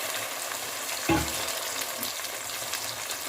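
Neem shukto vegetables poured into a hot pan of oil and spices, giving a sudden burst of sizzling that settles into a steady, close frying hiss.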